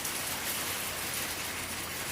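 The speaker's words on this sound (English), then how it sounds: "Seeing that rain come down." Steady rain falls on a carport roof, a dense continuous hiss of drops with no pauses, heard alone at moderate level.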